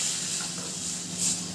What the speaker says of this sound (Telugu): హాఫ్ గ్లాస్ వాటర్ వేసుకున్నాను.